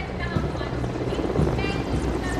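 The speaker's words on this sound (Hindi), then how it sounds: "इधर आकाश में दो मी 17 हेलीकॉप्टर्स आकाश से पुष्प वर्षा करते" Two Mi-17 helicopters fly over the Red Fort during an Independence Day flag-hoisting, showering flower petals; a steady, loud rotor drone and engine rumble fills the whole stretch, with faint crowd or speech sounds mixed in.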